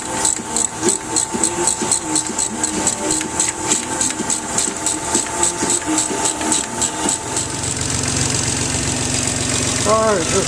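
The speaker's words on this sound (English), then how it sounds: "just fired up the new motor" A newly installed engine in a 1989 Geo Metro XFi runs just after start-up with a steady rhythmic idle and regular ticking pulses, then shifts to a smoother, louder drone near the end.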